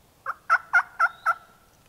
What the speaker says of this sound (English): this gobbler was only roosted about 80 yards away